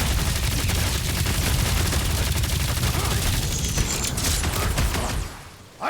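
Sustained rapid gunfire fills a combat fight in Marvel's Guardians of the Galaxy, a loud continuous barrage of shots that fades near the end, with battle noise and effects layered in.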